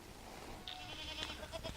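Kiko goats in a farm herd bleat once or twice at moderate distance, a short wavering call over quiet outdoor background.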